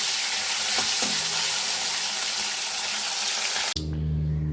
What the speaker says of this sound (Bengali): সবার আগে করবো হচ্ছে শুকনি মাছগুলোকে ভেজে নেব